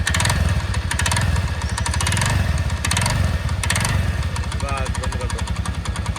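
A TVS Ntorq 125 scooter engine runs with a one-way clutch fault, giving a loud, fast, steady chugging with rattling bursts that repeat throughout.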